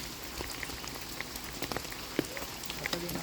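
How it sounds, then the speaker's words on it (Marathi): Light rain patters steadily on a surface, with scattered drops and faint background activity, fairly soft and distant. "त्यातच पाऊस सुद्धा चालू झाला आहे बऱ्यापैकी"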